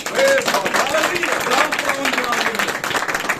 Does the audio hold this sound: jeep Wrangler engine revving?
no